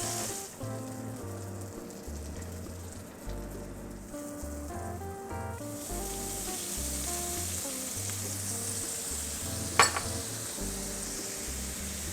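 Charred prawns frying in a pan for tamarind nyonya prawns, giving a steady broadband sizzle with a soft clink near the end, all beneath continuous background music.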